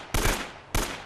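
Two loud bursts of enemy gunfire from the video game Uncharted: Drake's Fortune, each a dense broadband blast about half a second long, separated by a brief gap, close and with no talk.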